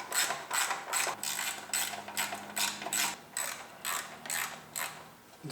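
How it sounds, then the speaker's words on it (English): A socket ratchet clicks in quick repeated bursts, about a dozen close-up strokes, as it loosens fasteners on a shield over a BMW E30 engine, with no talk. "Got to get out my colorful set of sockets."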